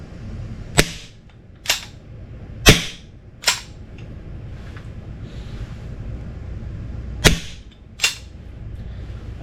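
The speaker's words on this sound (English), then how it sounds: "let's see how it feels just doing a dry fire." Six sharp, crisp clicks from an ASG CZ Shadow 2 airsoft pistol being dry fired, spaced about a second apart with a short pause before the last two, close and distinct over quiet background hiss.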